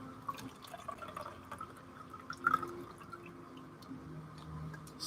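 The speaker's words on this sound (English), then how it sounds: "Pour myself a little coffee out of the thermos here." Coffee poured from a thermos gives a soft, faint trickle and light drips over several seconds, small splashes and clinks rising midway through a quiet indoor room.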